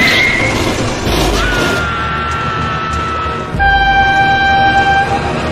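Train horn tooting in a toy monster truck rescue play scene, a steady high horn tone sounding loud and close over busy rumbling noise, with a crash-like burst partway through and the horn returning strongly near the end.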